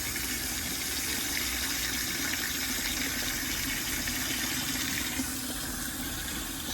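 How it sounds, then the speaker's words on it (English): Tap water pours steadily into a bucket, filling it for a rinseless car wash, a constant close rushing splash with no talking. "I'm just gonna fill it up to about, I don't know, 5 gallons"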